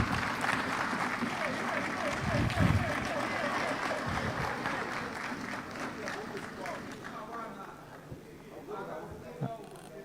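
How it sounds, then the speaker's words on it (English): A crowd applauds inside a parliament chamber, a dense, steady wash of clapping with murmuring voices that thins and fades toward the end. "I think we need to give her a round of applause."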